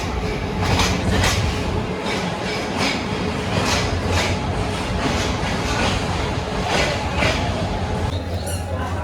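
A commuter train, stopped at a station in Bangladesh, rumbles and clatters steadily nearby, with rhythmic wheel clacks and faint squeaks, voices murmuring underneath.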